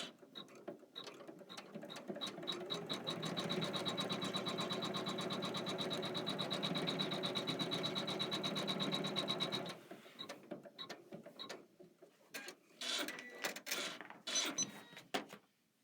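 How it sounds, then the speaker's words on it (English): An embroidery machine stitches down a border in a quilt-block design, a rapid, even mechanical clatter of needle strokes that runs steadily for about ten seconds, then stops and gives way to scattered clicks and handling noises. "This is going to stitch down this border"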